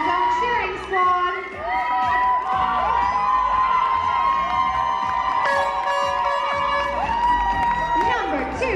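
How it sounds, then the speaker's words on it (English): A contestant's own cheering squad at an international male model competition, a crowd shouting, whooping and cheering continuously, loud and close with high excited voices overlapping throughout. "He brought his own cheering squad."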